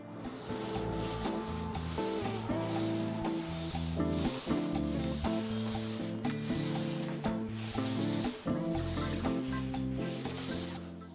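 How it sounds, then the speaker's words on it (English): A 1/2 inch nap paint roller spreads primer sealer on a wall with a continuous soft rubbing, sticky swish in repeated strokes. The sound is close and steady, with faint background music and no talk. "we are going to apply our primer sealer with a 1/2 inch nap paint roller brush"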